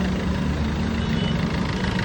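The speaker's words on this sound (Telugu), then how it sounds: "ఇంజన్ వాయిస్ చెక్ చేయండి ఒకసారి మీరు." A used car's engine idles with a steady low rumble and constant drone under the open bonnet, close and continuous with no voices.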